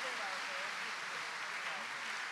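Audience applause at a church assembly service in Korea, a dense, steady wash of clapping from a large crowd that fills the whole moment at moderate loudness.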